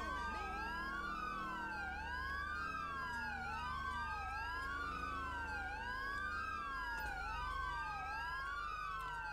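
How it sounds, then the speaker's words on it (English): Police car sirens wail continuously in a GTA 5 police patrol scene, rising and falling in steady overlapping sweeps, loud and close throughout with engine rumble underneath. "I wish these cops would turn off their fucking sirens"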